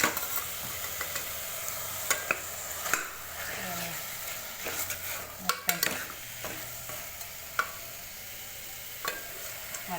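Onions sautéing in a pan for a mutton dish, a steady low sizzle broken by scattered scraping knocks of a spoon stirring against the pan, close and without talk.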